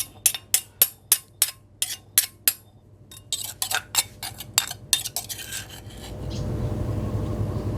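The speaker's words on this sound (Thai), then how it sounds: "ขั้นตอนนี้เราจะโขกหยาบนะครับ ไม่ต้องให้ละเอียดดี" A pestle pounds stink beans and pork belly ingredients in a mortar with steady, sharp knocks, roughly two per second, then gives way to a low sizzling hiss.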